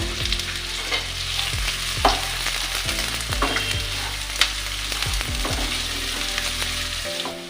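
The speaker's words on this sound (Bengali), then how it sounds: "রসুন পেঁয়াজ আর দুটো তেজপাতা এবার এটাকে আমি একটু হালকা করে ভেজে নেব" Garlic, onion and two bay leaves frying lightly in hot oil in a pan, with a steady sizzle broken by repeated clinks and scrapes of stirring, close and fairly loud, and no one speaking.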